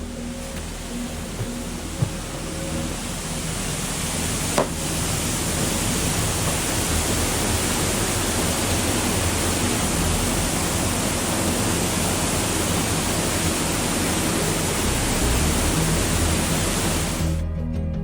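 Steady, loud broadband rush of Five Mile Creek pouring past the screens of a built drinking-water intake, continuous and close for the whole stretch with no talk.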